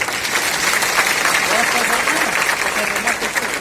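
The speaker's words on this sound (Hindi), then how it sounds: "एक बार ताली के गड़गड़ाहट से आप भी स्वागत" Dense, steady applause from an audience at a martyrs' day commemoration ceremony welcoming a guest, loud and close, sustained throughout with no pauses.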